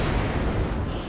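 An aircraft strafing run on infantry squads in the wargame WARNO, a dense continuous roar of rapid gunfire and explosions, loud and unbroken for about a second.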